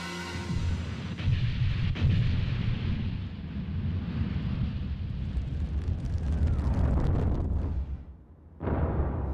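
Military weapons firing at the giant monster Gamera in the 1996 film Gamera 2: Attack of the Legion, a loud sustained roar of explosive blasts and rumbling fire that swells and continues for several seconds, briefly dipping before a final burst.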